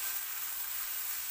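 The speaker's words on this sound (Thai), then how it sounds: "มันจะติดกระทะนะคะเพราะว่ามันไม่มีน้ำนะคะอันนี้เราจะผัดแห้งๆนะคะ" Yellow noodles are dry stir-fried in a pan with no water, giving a continuous faint sizzle and hiss with no pauses or talking.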